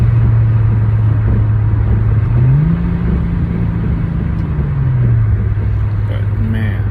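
A Mercedes G-Class with an aftermarket exhaust drones steadily while cruising, its low engine note rising briefly in pitch and falling back, partly buried under heavy wind noise.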